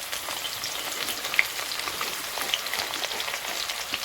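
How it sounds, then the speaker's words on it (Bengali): Chopped onions fry in hot oil with whole spices such as cumin, crackling in a dense, even sizzle close by, with a few sharper pops. No one speaks. "ভাজা হয়ে গেলে এরপরে দিয়ে দেবো আমি কেটে রাখা পেঁয়াজ"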